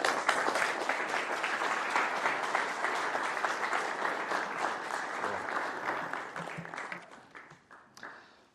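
A lecture audience applauds a guest speaker at a university religion department talk, with dense, sustained clapping for several seconds before it thins and fades out near the end.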